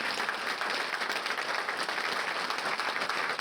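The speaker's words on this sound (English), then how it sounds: "let's give them another round of applause" Dense, continuous applause from a large banquet audience honoring athletics hall of fame inductees, a steady wash of many hands clapping throughout with no voices on top.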